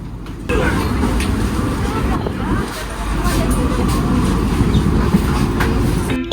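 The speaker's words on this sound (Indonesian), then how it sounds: "kereta api komuter Supas atau komuter Pasuruan telah berangkat dari stasiun Surabaya Gubeng" A commuter train rumbles and rattles steadily as it pulls out of Surabaya Gubeng station, with wheels clacking over rails and a deep continuous roar filling the space.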